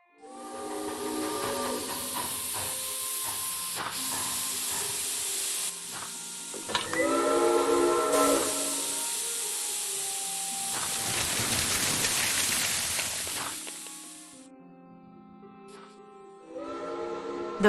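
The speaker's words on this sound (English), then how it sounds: "Those whistles mean a train with a snowplow has arrived from Broad." Steam train whistles in the Murder on the Orient Express adventure game signal an arriving train with a snowplow, long hissing blasts with harmonic tones sounding several times, fading and returning, with steam hiss in between and no talk.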